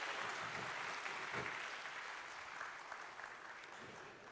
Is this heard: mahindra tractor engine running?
no